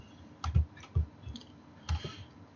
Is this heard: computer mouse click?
yes